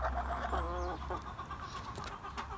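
A newly arrived Ameraucana hen clucks close by in a coop, a few short throaty calls followed by quieter scratching and rustling.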